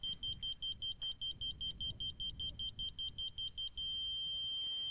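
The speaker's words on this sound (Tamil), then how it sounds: "சத்தம் வருது பாருங்கள். இந்த சத்தத்தை வச்சுட்டு இது கண்டினியூஸாக அந்த பீப் வரும்போது" A laser level receiver beeps in a quick, even string of short, high electronic pulses. It then switches to one unbroken tone, clear and close in a quiet setting.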